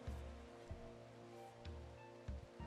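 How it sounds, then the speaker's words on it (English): Hailstorm in the modded video game Rimworld: a steady, dense rain-like patter with recurring low thumps and swells, heard alone without talk. "How long is this hailstorm going to last? I mean, you did say it was a freak hailstorm, but 8 hours?"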